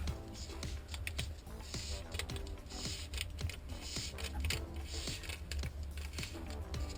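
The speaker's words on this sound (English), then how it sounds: "peel your backing from your tape" Backing paper peels away from vinyl transfer tape with a faint, continuous run of small crackling ticks and snaps, close by and quiet, with no talking.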